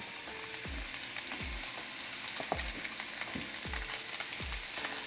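Snapper fillets fry in melted butter in a pan with a steady crackling sizzle, broken by a few soft thuds of utensils, and no one speaks.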